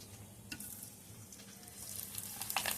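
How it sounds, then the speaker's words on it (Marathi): Wheat kurdai, crisp wafers made from wheat, deep fry in hot oil with a soft, steady sizzle and fine crackle that grows a little louder toward the end, no voices over it. "सर्व बाजूनी मस्त तळल्या जाते बघा"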